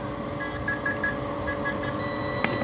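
A Tamiya 1/35 Flakpanzer Gepard RC model tank connecting to its remote, giving a series of short, evenly spaced electronic confirmation beeps over a steady background hum.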